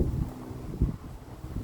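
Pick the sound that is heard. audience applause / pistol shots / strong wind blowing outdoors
strong wind blowing outdoors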